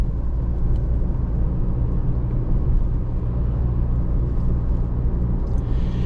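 A 2024 Chevy Colorado ZR2 truck engine climbing large hills at low revs around 1500 RPM, a steady low rumble with road noise heard from inside the cabin, with no talk.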